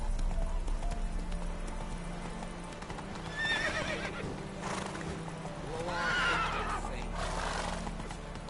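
A horse in The Witcher 3 clip-clops at a steady gait and neighs twice, under game background ambience.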